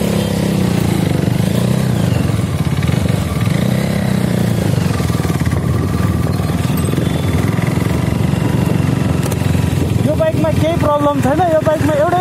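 Motorcycle engine running steadily during a ride, a continuous loud drone with a voice talking over it.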